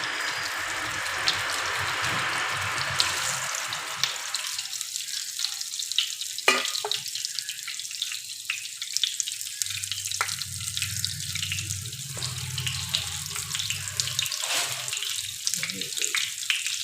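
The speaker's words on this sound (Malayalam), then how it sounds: "ശരി, ഒന്ന് വാട്ടാം നോക്കാം." Stuffed brinjal wilts in a hot pan with a steady, loud sizzle that fades back and forth, with scrapes and clatters of stirring and a brief lower rumble partway through.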